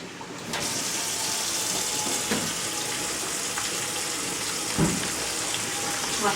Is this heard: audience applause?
no